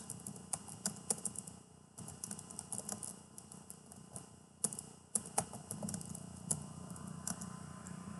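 Quiet, close clicks of a computer keyboard being typed in short irregular bursts over a faint steady background hum.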